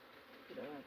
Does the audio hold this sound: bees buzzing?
yes